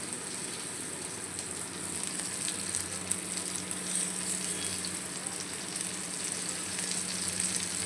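Rava-coated eggplant slices fry on a tawa in hot oil, giving a bright, steady sizzle that swells slightly as more slices go in, close and continuous with no voices.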